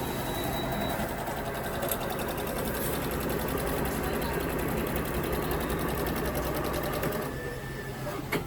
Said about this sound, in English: These are special machines that do the emblems automatically.